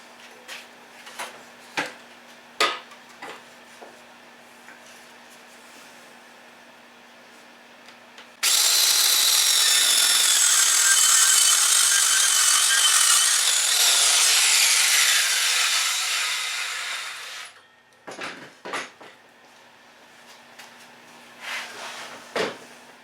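A power saw cuts a countertop to length for a Promaster 2500 159-inch-wheelbase camper van build in one steady, loud pass of about nine seconds, framed by clicks and handling knocks before and after.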